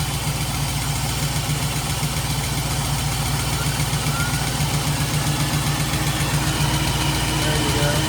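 A Studebaker Champ engine idles steadily with a low, even rumble and rhythmic pulsing, close and continuous throughout.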